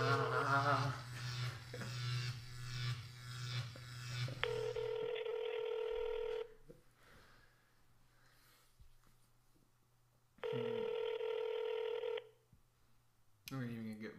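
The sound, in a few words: telephone call dialing, going to voicemail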